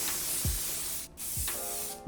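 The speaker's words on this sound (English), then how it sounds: "Let me put some spray in them" Two short hissing bursts of hair spray onto wig curls, about a second apart, close to the microphone.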